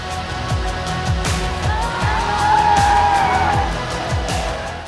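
An Audi Quattro sports sedan accelerates hard, its engine note rising through several quick gear changes in a repeating pattern, a steady close roar with faint high tire and wind noise.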